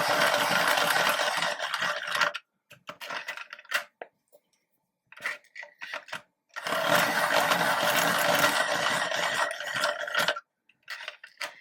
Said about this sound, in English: So I'm just going to sharpen these again because I think they're getting a bit blunt.